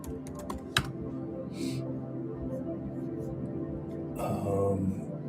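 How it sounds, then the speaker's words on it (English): Quick clusters of clicks on a computer keyboard, close and crisp, with pauses between bursts over a low background hum; a person talks briefly in between. "Well, I'll just type it over here."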